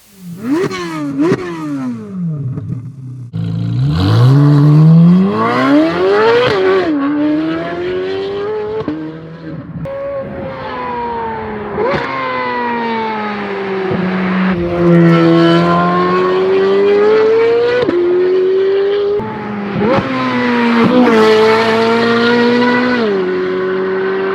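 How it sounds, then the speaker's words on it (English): A Chevrolet Corvette C8 Z06 with a Fabspeed aftermarket exhaust revs repeatedly, pitch climbing and falling in a series of aggressive bursts with a raspy, crackling tone, no talking. "Let's listen to the Fabspeed exhaust on the Z06."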